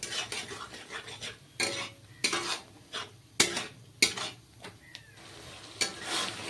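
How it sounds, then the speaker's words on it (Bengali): A spice paste being stirred in a cooking pan: repeated sharp scrapes and clinks of a utensil against the pan over a soft sizzle, close and fairly quiet, with no talking. "এবার একটু নেড়ে চেড়ে মশলাটা আমি আর তৈরি করে নেবো"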